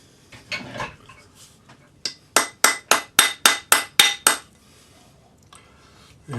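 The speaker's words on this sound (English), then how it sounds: "Now I'm going to hammer the bottom part around it with a rawhide hammer just to make sure it's round" A rawhide hammer strikes a metal spinner ring with eight quick, evenly spaced taps, bright and ringing, after a few softer knocks and handling sounds, loud and close with no talking.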